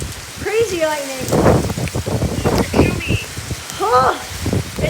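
Rain pouring steadily during a Phoenix storm with lightning, a dense hiss close by, under excited talking and exclamations.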